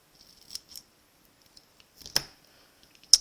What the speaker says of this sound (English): I'm going to take another dimensional, and I'm just going to cut it in half.